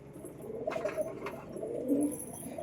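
Pigeons in a loft cooing, a couple of soft low throaty coos over a light background murmur, close and fairly quiet.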